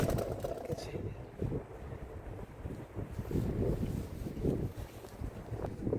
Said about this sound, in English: The wind is blowing so hard that it's blowing away my little pull along.